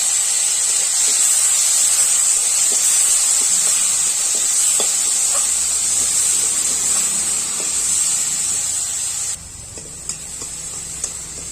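Finely chopped tomatoes hit a hot pan of reddened onions and sizzle steadily, a loud continuous frying hiss that lasts throughout and eases slightly near the end.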